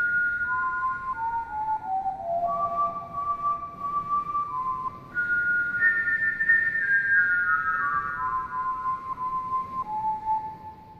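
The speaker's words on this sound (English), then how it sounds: "you hear someone whistling an enchanting tune." A person whistles a slow, wandering melody of clear sustained notes, stepping down and then rising, heard alone and fairly close over faint background hiss.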